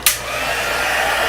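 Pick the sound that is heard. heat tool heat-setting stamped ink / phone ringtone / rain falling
heat tool heat-setting stamped ink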